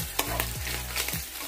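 Ground meat frying and being stirred in a pan, with a steady close sizzle and a few sharp scraping strokes of the spatula repeating through the short stretch.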